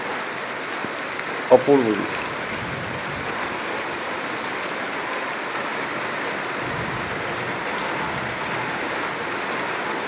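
Heavy rain pours in a steady, dense hiss throughout a rainy day, with a brief spoken exclamation early on over the downpour.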